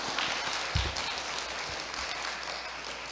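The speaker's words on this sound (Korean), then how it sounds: "박수 한번 치겠습니다." A church congregation claps together for a brother back from military service, a dense, steady patter of applause with a few low thumps near the start.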